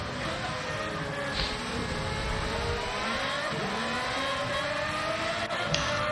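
Race car engines in a sim racing video game drone steadily as cars run past, a continuous engine roar with shifting pitch and no clear gaps, moderately loud throughout.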